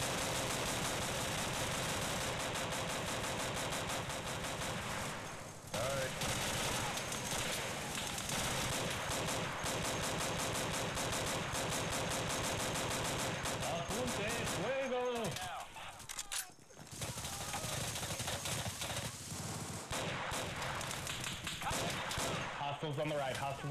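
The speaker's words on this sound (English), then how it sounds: "Machine gun." Dense machine gun and rifle fire crackles through a firefight in the video game Insurgency, near and sustained with brief dips, voices talking underneath.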